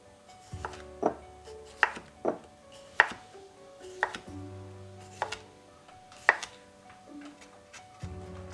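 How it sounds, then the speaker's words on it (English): A knife chops cucumbers into rounds on a board with crisp, separate knocks roughly once a second, near and clear, some with a faint ringing tail, and no voices. "the cucumbers I'm just going to cut them in some"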